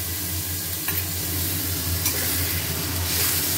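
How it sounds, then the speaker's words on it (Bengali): Spice paste of turmeric, salt, cumin, tomato, garlic paste and ginger paste sizzles steadily in hot oil while being stirred, a dense continuous frying hiss with faint scraping, close and even throughout. "মশলা খুব ভালো করে কষা হয়েছে"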